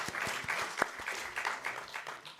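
Faint, fairly distant clapping from a small audience at a conference on gagaku, a few sharp individual claps standing out within the brief patter before it thins out.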